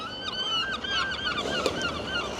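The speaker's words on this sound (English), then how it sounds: "these seagulls are noisy" Several gulls call overhead in loud, overlapping honking cries, close by and repeated over a faint outdoor background.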